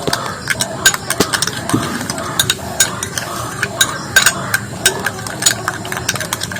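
A bowl of lemon juice, salt and a little water being beaten briskly with a utensil, giving rapid repeated clicks and scrapes in an uneven rhythm, close and fairly clear with no talking.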